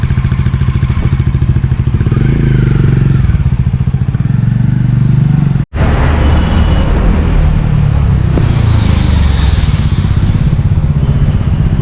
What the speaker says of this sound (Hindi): क्लच किया, स्टार्टर मोड़ रही है।